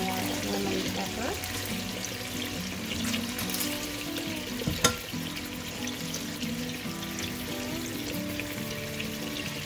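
Pork chops seasoned with lemon pepper fry in a pan, a steady crackling sizzle running throughout with one brief louder clatter midway and faint background room noise.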